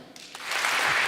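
An audience in a hall breaks into applause, a short swelling burst of clapping that grows louder and denser over about a second.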